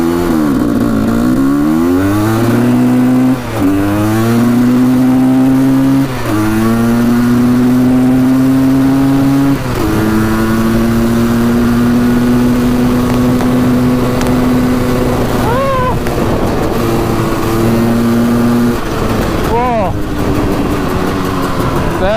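A Quadzilla Banshee two-stroke quad accelerates flat out toward top speed, its loud buzzing engine climbing in pitch through several gear changes and holding a steady high whine, close and continuous throughout.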